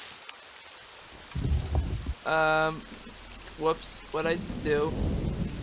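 Steady rain and rumbling thunder fill a video game scene, a constant wash of downpour under a man's brief spoken remarks.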